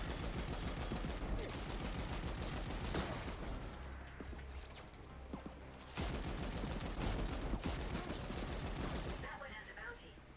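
Rapid bursts of automatic gunfire crackle in a tactical shooter video game, quiet and recurring across the stretch in clustered volleys, with faint voice-like sounds mixed among the shots.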